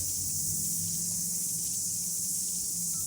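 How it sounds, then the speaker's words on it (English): Loud, continuous high-pitched buzzing of cicadas fills the air, an unbroken shrill drone over a low background rumble. "it's cicadas. They're very loud during the summer"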